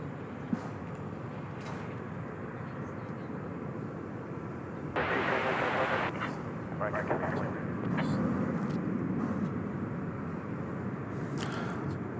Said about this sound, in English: So that was American Flight 329 going to Boise, Idaho, an Airbus A321.